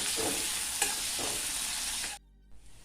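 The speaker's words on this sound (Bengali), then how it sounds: "পেঁয়াজটা হালকা লাল করে ভেজে নেব।" Onion frying in oil in a pan for a Bengali fish curry: steady close sizzle with stirring scrapes, which cuts off near the end before a faint return.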